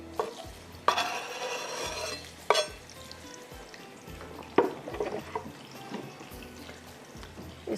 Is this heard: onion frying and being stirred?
yes